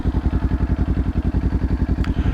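Motorcycle engine on a gravel parking spot running with a steady, pulsing low throb, close and loud, as the bike pulls off; a brief higher clatter near the end.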